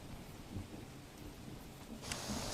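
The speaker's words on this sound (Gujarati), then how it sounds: "સુરત શહેરમાં વહેલી સવારથી ધોધમાર વરસાદ ચાલી રહ્યો છે" Steady heavy monsoon rain hisses down over Surat, Gujarat, fairly faint and even, with a low rumble of thunder underneath and no voices.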